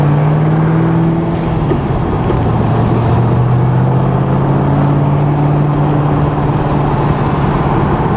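Tuned car on the throttle, its engine droning loudly with a steady low hum that rises slightly in pitch as it accelerates, close by and without talk.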